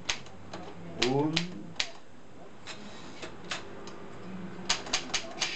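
Keys clacking on a 1945 Triumph Norm 6 manual typewriter, heard as sharp close strikes in uneven bursts with a ratcheting mechanical sweep partway through, while someone speaks Swiss German faintly beneath.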